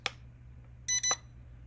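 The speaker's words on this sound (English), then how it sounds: "you're going to press this button, and that red button should go on. You should hear some beeps." A short click, then two quick electronic beeps in succession from a drone's remote controller, clear and close over a low steady hum.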